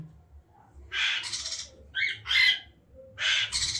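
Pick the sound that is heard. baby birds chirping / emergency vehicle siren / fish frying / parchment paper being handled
baby birds chirping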